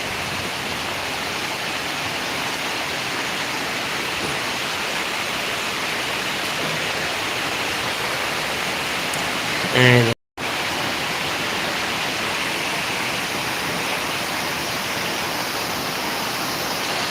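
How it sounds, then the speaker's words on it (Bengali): Heavy rain in Bogura, Bangladesh, on the fourth straight day, pours down in a dense, steady roar close by, with a brief thump and a momentary cut near the middle. "এই দেখুন কি পরিমাণে বৃষ্টি হচ্ছে"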